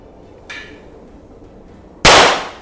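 A single loud, sharp gunshot from a Taurus 942 revolver at a shooting range cracks out near the end and then decays, after a fainter knock earlier on.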